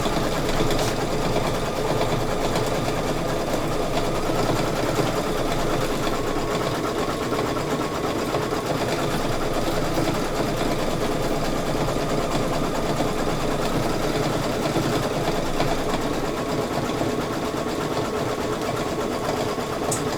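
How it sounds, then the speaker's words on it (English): A home embroidery machine stitches a design with a loud, continuous, rapid mechanical whirring and needle clatter that stays even and unbroken throughout. "My machine is still happily embroidering, thank goodness."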